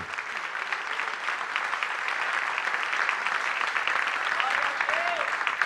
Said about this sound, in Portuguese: Glória a Deus, aplauda o Senhor.